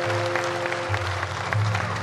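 An audience at a devotional kirtan claps along while a sustained tonal drone and low hum carry underneath, the clapping loud and continuous.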